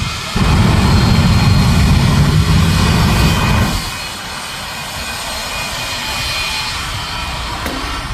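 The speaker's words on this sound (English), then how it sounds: "Sturgis in the jet truck blast from the past." A jet-powered monster truck engine blasts with a loud, broad roar at a monster truck show, cutting off abruptly after a few seconds and leaving a quieter idling hiss.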